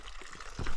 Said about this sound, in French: L'eau coule bien, on va pouvoir remplir la gourde.